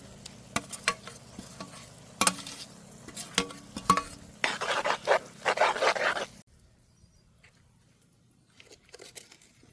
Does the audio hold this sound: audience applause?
no